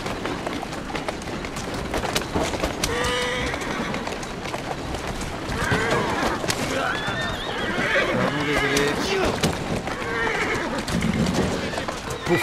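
A horse in the Assassin's Creed Syndicate video game whinnies repeatedly over a steady clip-clop of hooves, close and fairly loud, while someone talks over it.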